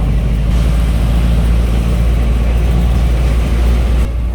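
Steady, loud engine rumble heard from inside a moving passenger jeep, continuous road noise with no talking.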